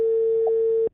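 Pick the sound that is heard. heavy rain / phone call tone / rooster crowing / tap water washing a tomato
phone call tone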